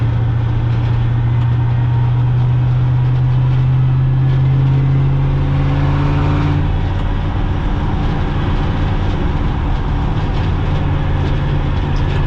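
A loud, continuous engine drone with heavy rumbling and rattling from an old Chevrolet square-body K30 truck with a swapped 6.0 LQ4 V8, steady throughout with a tone shift partway through.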